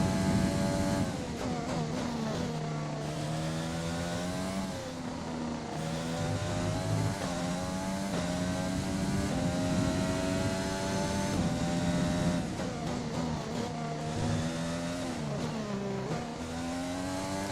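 A Formula 1 car engine screams through a lap in F1 2020 at the French Grand Prix practice, its pitch rising and dropping repeatedly through gear shifts and braking, loud and close throughout.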